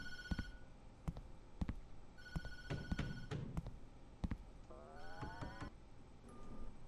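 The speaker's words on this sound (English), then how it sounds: "Don't answer the phone." An in-game telephone rings in the horror video game TattleTail, sharp electronic ring bursts repeating in irregular clusters alongside scattered clicks and thumps, fairly quiet overall.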